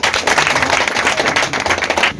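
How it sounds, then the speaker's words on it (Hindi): Loud, dense applause from a crowd at a political gathering welcoming newly appointed leaders, a sustained wash of clapping for about two seconds that cuts off abruptly at the end. "जोरदार तालियां।"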